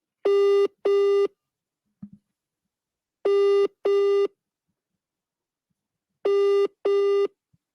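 A telephone rings during an online game show, three clean pairs of electronic double rings repeating at a steady interval against near-silence.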